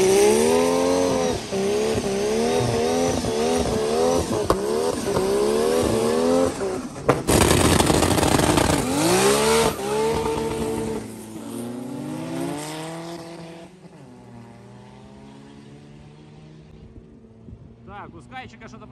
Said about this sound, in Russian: это 33-й Skyline. Какой-то лютый, но без парашюта, как минимум. Но я думаю, судя по звуку, он валит просто пипец